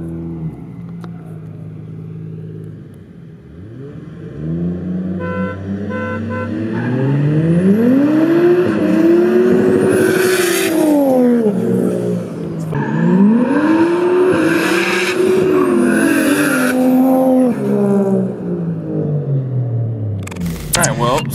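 A car engine with a 2JZ swap and T56 Magnum gearbox revs hard over and over, pitch rising and falling in long loud surges, with tire spin while stuck in a hole and a few muffled voices mixed in.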